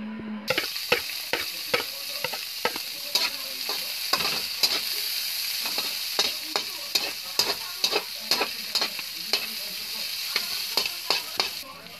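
Garlic, onion, pickles and pepper sauté in a pan with a steady sizzle, punctuated by rhythmic scraping stirs of a utensil against the pan, close and fairly loud.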